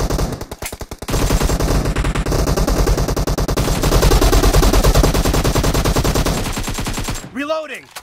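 M416 assault rifle gunfire from a shooter game, a long close run of rapid automatic shots after a brief pause, ending in fainter ringing game sounds.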